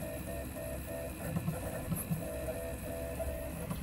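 An upgraded 3D printer runs nearly silently up close, a soft steady hum with faint fan whir and gentle rhythmic motor tones ticking in and out, quiet and continuous with no voices.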